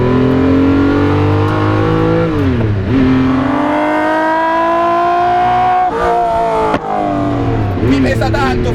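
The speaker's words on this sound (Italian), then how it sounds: "Sento tutte le 60 valvole, 5 per cilindro, sento tutti i 12 cilindri" A Ferrari F50's 60-valve V12 revs hard, a loud, sustained wail rising and falling in pitch with brief drops between gear changes, heard up close from the cabin.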